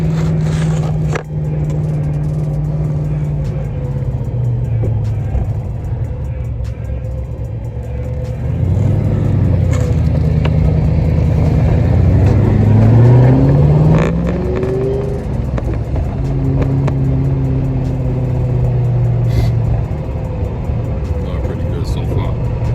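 A Foxbody car on Toyo R888R tires rolls through a test drive, a close, steady engine drone that rises into a louder revving surge midway before settling back to a cruising hum.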